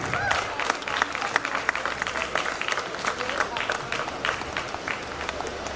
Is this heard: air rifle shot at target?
no